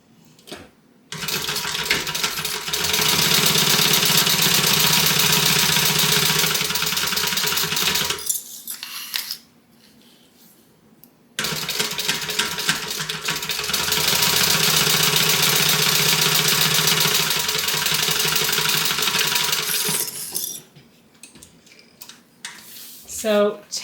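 A sewing machine stitches a tote bag in two long runs, a steady fast whirring hum that stops briefly in between, loud and close with no talk.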